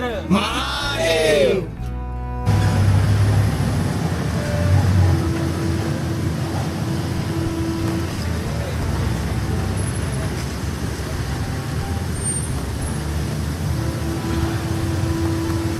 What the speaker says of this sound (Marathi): ट्रॅफिक आहे तर आम्ही थोड्याशा अंतरावरच थांबलोय